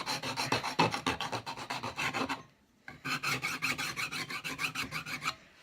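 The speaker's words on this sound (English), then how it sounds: "The file is just to clean up the edges." A hand file rasps along the edges of an RC car hard body held in a vise, with steady rhythmic back-and-forth strokes, close and clear, pausing briefly midway before resuming.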